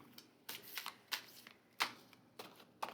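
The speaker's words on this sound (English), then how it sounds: "So I'm going to just shuffle." A deck of cards riffled by hand in a quiet room, a series of crisp, fluttering shuffle bursts recurring every half second or so, close and fairly soft, with no talking.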